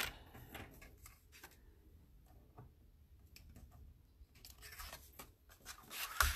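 Cardstock being cut for a handmade card base on a paper trimmer, heard as quiet scattered ticks and scraping strokes that close with a brief louder slice, near and faint with no talking.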